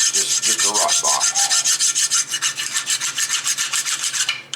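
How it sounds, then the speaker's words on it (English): A hand file rasps rust off the edges of a brake caliper bracket on a 2014 Toyota Corolla S, with loud rhythmic back-and-forth strokes repeating steadily close to the microphone and no talking. "Back and forth diagonally up against the front edge. I try to keep the file flat against these edges on the inside here"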